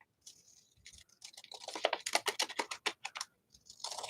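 Shears trimming paper for an art journal: a run of quick, crisp snipping clicks, close and fairly soft, rising into denser cuts and ending after a short pause with a last burst.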